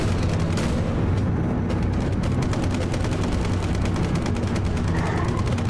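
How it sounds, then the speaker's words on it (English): Continuous rapid gunfire comes from a WW2 train in a zombie shooter game, a relentless, dense stream of shots and blasts filling the scene with loud, unbroken racket. "it just constantly keeps shooting on the right side"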